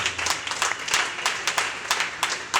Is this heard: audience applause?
yes